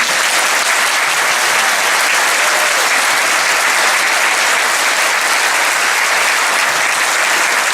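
Sustained, steady applause from a large audience fills the hall at a 2018 School of Nursing graduation ceremony, loud and unbroken throughout with no voices on top.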